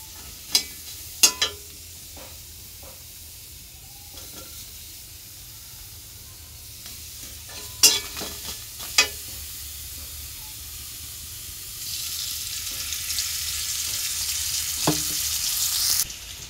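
Fish sizzling in a pan of hot oil while cooked with greens, a steady crackling hiss with a few sharp spatters and scrapes, growing louder and steamier toward the end, with no talking.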